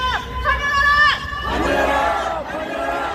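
A large crowd at a protest rally shouts slogans together in Korean in loud, energetic bursts, voices blending into a unified roar with some rising cries.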